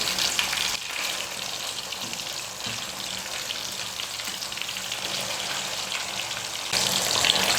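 Masala-marinated fish fries in oil after being flipped, a steady close sizzle and crackle that holds throughout and swells louder near the end.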